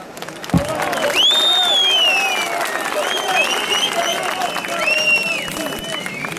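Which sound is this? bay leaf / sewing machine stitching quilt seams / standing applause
standing applause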